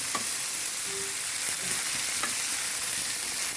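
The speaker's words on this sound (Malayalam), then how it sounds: "ഇനി നമ്മൾ എടുത്തു വെച്ചിരുന്ന തക്കാളി ഇടാം നന്നായി വഴറ്റാം" Onions and tomatoes sautéing in a pan for an egg dish, a dense, continuous close sizzle with occasional soft spatula scrapes, even and fairly loud throughout.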